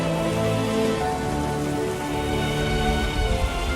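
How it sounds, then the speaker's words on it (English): Heavy acid rain pours steadily in a scene from the live-action Fist of the North Star film, a dense, continuous close hiss of drops on surfaces with no voices. "Kenshiro has taken shelter from the acid rain inside of Bat and Lim's home"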